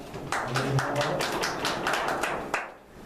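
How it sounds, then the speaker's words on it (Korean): Rapid hand claps in a quick, fairly even series, close and moderately loud, with no speech. "항상 처음 시작할 때 박수를 딱 내고 시작합니다"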